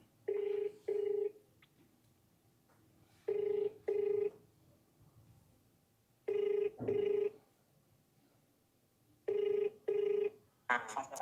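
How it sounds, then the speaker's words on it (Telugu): A telephone rings in repeated double bursts, four pairs evenly spaced, clear and fairly close, with quiet room noise between rings. "మనోడు ఫోన్ ఎత్తట్లే అయినా కూడా."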